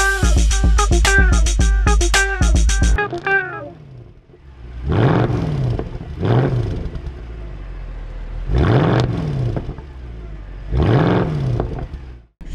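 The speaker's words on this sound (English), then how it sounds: "showing you how the exhaust sounds" A 2004 BMW Z4 with the 3-litre M54 straight-six and manual gearbox: a run of sharp revs, then several separate rising and falling exhaust sweeps as it pulls through the gears, loud and close.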